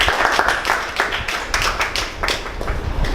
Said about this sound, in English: Ken, please give him a warm round of applause